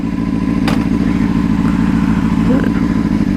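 A motorcycle pulls away as the clutch is let out, its mid-pitched engine pulsing steadily and loud up close with a clattery edge, a voice briefly heard over it.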